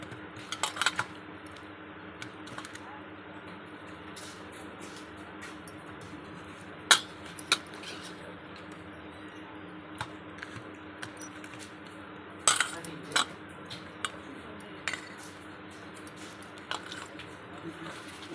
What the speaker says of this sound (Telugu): ఈ అరటికాయల ముక్కలన్నీ దీంట్లో వేసి బాగా కలిపేయాలి